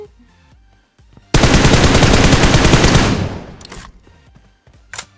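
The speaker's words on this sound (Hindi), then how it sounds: "हम इनको कार 98 मार रहे थे" Kar98 rifle gunfire in the PUBG Mobile video game on an iPad, a loud dense burst of shots lasting about two seconds that tails off, followed by a couple of brief sharp reports.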